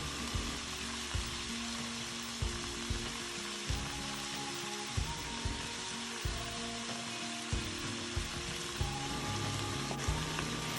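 Cabbage and vegetables sizzling steadily as they saute in a hot pan, a soft continuous crackle and hiss with periodic light knocks from stirring, close and fairly quiet, no voices.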